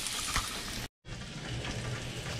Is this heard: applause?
no